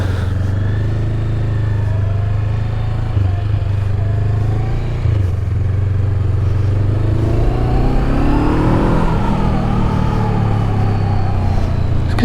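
A Honda CL500 scrambler motorcycle rides along with a steady, loud engine drone and exhaust note, shifting pitch as it eases off and then revs back up with rising throttle.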